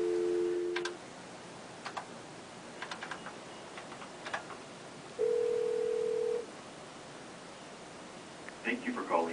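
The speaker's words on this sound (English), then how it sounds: "we're calling Desiree right now to tell her that she is going to be a secret Wiionaire" Telephone being dialed to place a call to a radio show's winner, with soft button clicks, a long single tone and a burst of ringing tones at the end over faint background hiss.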